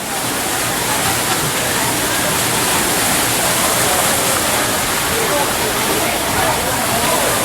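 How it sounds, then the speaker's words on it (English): Steady, dense rush of water pumped up and around a wooden water wheel at Knoebels Amusement Park, loud and close, a continuous splashing roar without breaks. "There's a pump that pumps the water up and around the wheel."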